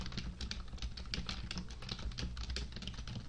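Rapid, steady typing on a computer keyboard, close and continuous, with crisp individual keystrokes and no talk.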